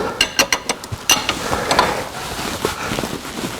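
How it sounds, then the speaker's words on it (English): A wrench ratchets in quick clicking bursts as it tightens a nut on a UTV tie rod end during a Kimpex Commander WSS4 install, close and crisp, then settles into duller metallic turning. "I'm going to lock this nut up here to make sure that when I'm turning the nut on the other side"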